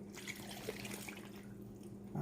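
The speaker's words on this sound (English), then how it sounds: "now I'm going to go ahead on and pour this marinade over it" Marinade is poured over turkey wings inside a bag, making a steady, soft liquid trickle and splash that runs for about two seconds close by, with no talk.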